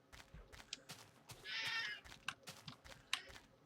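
A sheep bleats in Minecraft, one wavering cry in the middle amid quiet footsteps and clicks of play, with a faint sharp ping near the end.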